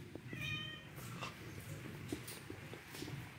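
Small kitten meowing indoors, a few faint high mews over low background rustle and clatter, no talk.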